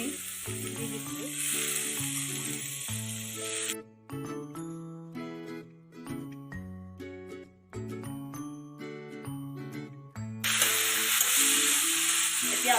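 Banana stem (kol posola) frying in a pan gives a steady, close sizzle at the start and again at the end, while a gentle tinkling melody plays across the middle.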